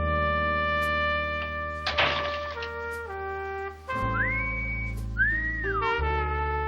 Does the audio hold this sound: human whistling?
yes